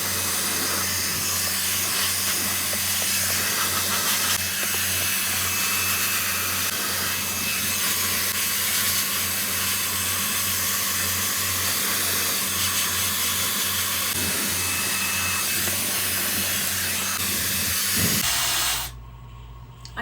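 A compact hair dryer runs steadily while drying completely wet hair, a close, loud, continuous airy whoosh with a low hum beneath that holds for about eighteen seconds before cutting off abruptly.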